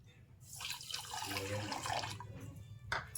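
A cup of water poured into a pot of sugar for a homemade sweet gives a steady, close splashing and trickling that lasts about three seconds, with a soft voice faintly present.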